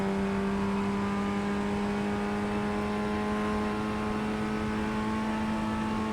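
Race car engine on a qualifying lap in the iRacing sim, a sustained high, steady engine whine held near constant pitch, loud and unbroken with no talk.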